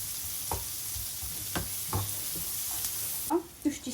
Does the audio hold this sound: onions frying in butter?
yes